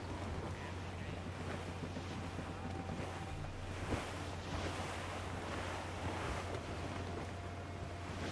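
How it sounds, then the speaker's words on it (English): Strong wind gusts over open sea in Assassin's Creed Rogue, a steady broadband roar with wave wash and a low hum from the sailing ship, sustained throughout with no break. "Wind's getting vicious."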